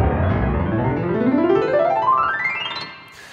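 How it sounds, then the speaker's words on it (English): Classical grand piano heard from an audience listening position, a rapid upward glissando running from bass to treble, full and close, tapering into a decaying ring. "if you're sitting in the audience, it's inverted, so let's press the audience button here at listening position"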